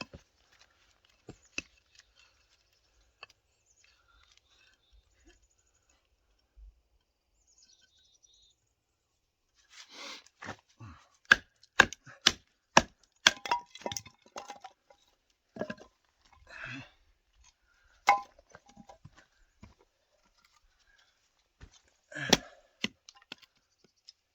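A 10.25-inch Swiss+Tech D2 steel survival knife chopping through a knot in spruce, with sparse faint taps at first, then a run of sharp, close, irregular chopping strikes with pauses between bursts.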